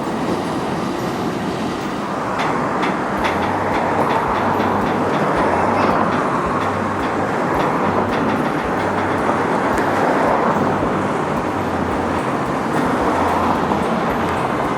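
A Norfolk Southern intermodal train coming in to stop around Atlanta rolls past close by with a loud, steady rumble, rhythmic wheel clatter and a low pulsing drone, no talking.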